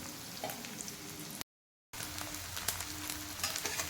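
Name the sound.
arbi (taro root) frying on medium gas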